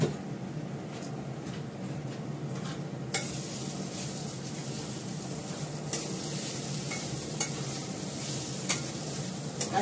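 Food frying in a small amount of oil in a pan, a steady soft sizzle with occasional clinks of a utensil stirring against the pan, quiet and continuous with no talking.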